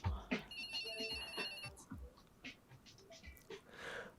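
A telephone rings with a trilling bell tone in the 1998 film Lock, Stock and Two Smoking Barrels, faint and brief among other quiet scene sounds and murmured voices.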